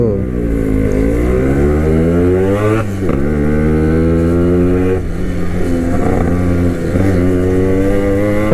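Motorcycles and cars in road traffic during a Sunday group ride, engines droning and shifting pitch steadily throughout, close and loud, with passing revs rising and falling.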